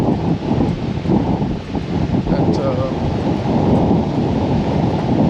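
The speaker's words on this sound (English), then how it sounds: "Oh, it's more windy here now." Strong wind roars and buffets continuously at Playa de Las Americas, Tenerife, in winter, a dense rumbling gust noise filling the whole stretch without any clear break.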